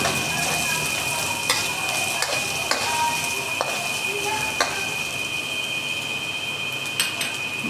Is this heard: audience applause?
no